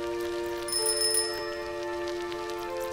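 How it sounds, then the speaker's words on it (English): A bell rings continuously in the horror video game Outlast Whistleblower, a sustained metallic ringing with steady overtones and a brief brighter jingle near the start, clear and close with no speech. "Why is the bell jingling?"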